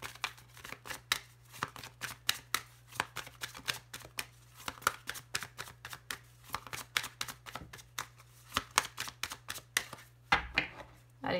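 Tarot cards being shuffled and cut, a long run of sharp riffling flicks and slaps in quick irregular bursts, close and crisp over a steady low hum, with a voice speaking briefly between the card sounds.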